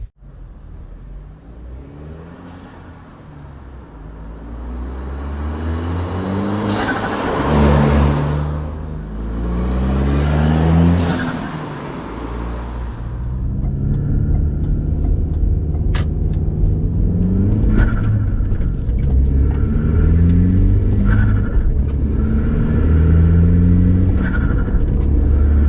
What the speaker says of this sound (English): I'll do a drive-by, and then I'll try to record audio from inside the cab as well.